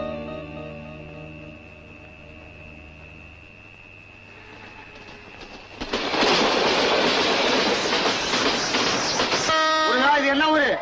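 A passenger train pulls out of a station: after a stretch of soft background music, a loud, steady mechanical rumble and rattle rises and holds for several seconds, followed by a brief voice at the end.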